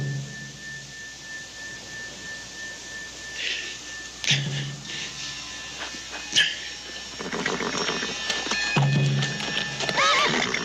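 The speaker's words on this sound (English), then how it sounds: "Get the horses!" Western frontier horses neigh in shrill bursts over a steady clatter of hooves clip-clopping on hard ground, with a dog barking at times; calls come close and loud, hoofbeats thickening toward the end, no talking.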